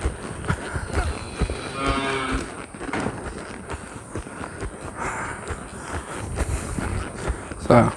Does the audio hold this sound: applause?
no